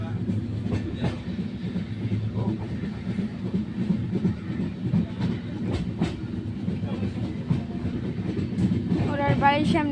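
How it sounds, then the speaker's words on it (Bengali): A train passes in front of a house, its rolling wheels clacking and droning steadily throughout, with a squealing tone rising near the end and faint voices in the background. "ওনার বাড়ির সামনে ট্রেন।"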